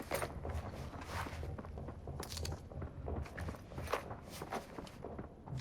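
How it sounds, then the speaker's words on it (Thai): Footsteps outside a building in the shooter game Arena Breakout tread in a quick, irregular rhythm, faint and somewhat distant under a muffled ambient wash. "เสียงเท้าข้างนอก"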